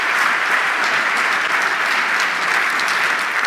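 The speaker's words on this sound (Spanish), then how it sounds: "Un aplauso, por favor." Audience applause at a 45th anniversary celebration for Elkargi, a dense, steady wash of many hands clapping throughout, loud and sustained with no voices over it.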